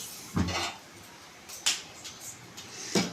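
A metal kadai is set down on a stove, giving three brief clanks of metal on metal spread over a few seconds, close and fairly quiet against a hushed kitchen background.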